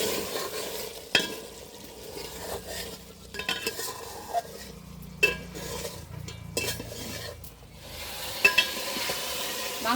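Chicken biryani meat being stirred in a pot with fried onions and garam masala, a steady close sizzle with scraping spoon strokes and occasional clinks against the metal, no voices.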